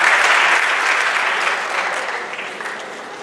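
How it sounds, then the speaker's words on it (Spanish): Audience applause at a lecture on the feather dance of La Laguna, a steady burst of many hands clapping that fades gradually over a few seconds. "Un aplauso"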